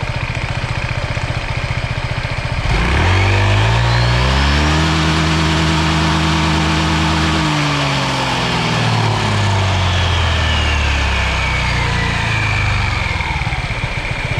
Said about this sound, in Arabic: دابا غادي نكسيري.